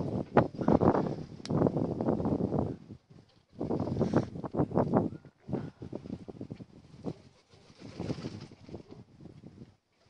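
Strong, gusty wind buffets the microphone outdoors where pigeons are kept in Donetsk, coming in loud, rough roaring bursts separated by brief lulls, with no voices.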